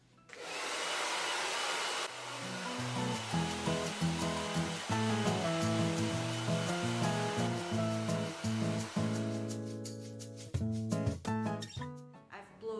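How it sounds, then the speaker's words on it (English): A hair dryer blows a steady, loud hiss while hair is being dried at home, heard clearly alone at first and then continuing under music. "The next step will be blow dry the hair before we apply the product."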